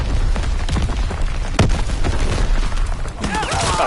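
Enemy artillery explosions in Call of Duty WW2, a steady roar of booms and rumbling impacts with one sharp blast near the middle, loud and continuous, with a voice speaking over the din.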